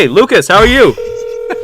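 A phone call rings out in a steady electronic tone after a man's brief greeting, the ring continuing unanswered for about a second.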